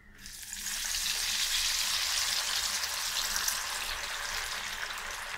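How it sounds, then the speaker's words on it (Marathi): Kothimbir vadi, coriander fritters, deep frying in hot oil: a dense, loud hiss rises within the first second and holds steady throughout, with no voices. "तेल तापलं आहे, कोथिंबीरीची वडी आपण आता तळून घेऊया"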